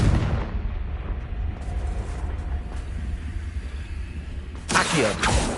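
In Hogwarts Legacy on PS5, a Confringo spell bursts amid steady low rumbling game ambience, with a sharp, bright crackling blast near the end of the stretch.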